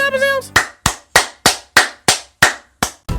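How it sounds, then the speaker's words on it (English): A booty-clapping sound effect: about eight sharp, fleshy slaps land in a quick, steady rhythm, loud and close, each fading fast. A brief voice comes just before them. "Booty clapping sounds."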